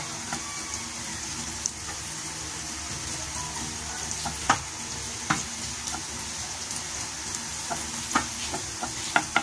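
Cauliflower and broccoli fry in a pan as a steady sizzle, with a few sharp clicks and stirring knocks breaking through now and then.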